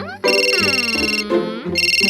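A telephone rings on and off in loud electronic bursts, two long rings separated by brief gaps, and nobody answers it.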